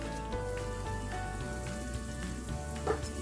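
Breadcrumb-coated salmon frying in oil in a pan gives a steady, close sizzle with faint crackles and a brief clink near the end, with no talking.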